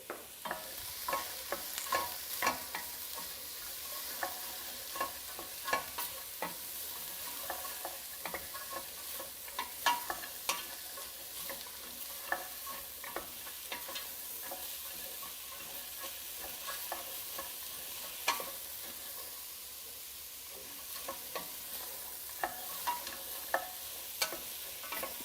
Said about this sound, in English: So we'll just give that a bit of a stir.